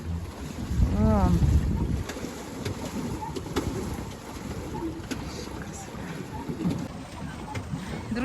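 A boat moves across Lake Baikal with steady wind buffeting the microphone and a continuous water and engine rumble, a brief bird call near the start and scattered knocks throughout, with a voice heard faintly at moments.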